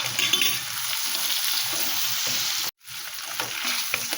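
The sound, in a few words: spices with cumin and green chilli frying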